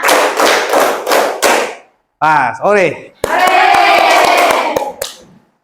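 A classroom of students claps hands in counted beats: five sharp, evenly spaced claps, a short spoken interruption, then a sustained burst of rapid, loud clapping that fades out.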